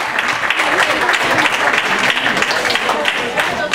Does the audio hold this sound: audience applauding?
yes